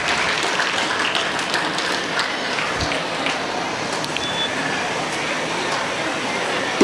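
Audience applause at a school day celebration, a steady dense wash of clapping that fills the whole stretch at an even level.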